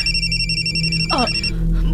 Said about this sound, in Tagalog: May cellphone nga di bagting.